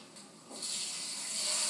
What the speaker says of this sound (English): Then I know it's hot enough to add the blade roast.